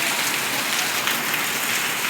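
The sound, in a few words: heavy rain falling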